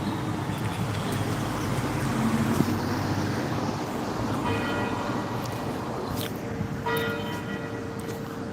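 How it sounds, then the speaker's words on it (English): Church bells ringing outdoors during a walk, resonant tolls heard at a distance over steady traffic and ambient noise; the number of strikes is not clearly distinguishable. "Nine bells. Hell's bells."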